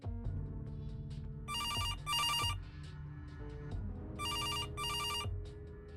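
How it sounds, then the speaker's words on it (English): A telephone rings in the point-and-click video game Kathy Rain. There are two pairs of bright electronic trills over a low game music bed, with a pause between the pairs. "I should answer the phone first."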